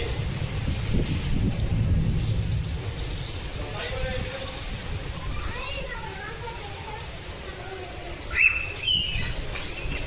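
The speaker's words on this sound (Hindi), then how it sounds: "आज ही देखें बरसात और तूफ़ान इतना तेज़ लगा था" Heavy night-time rain and storm at a home, a dense hiss loudest at the start that then eases, with distant voices and a few sharp knocks and splashes toward the end.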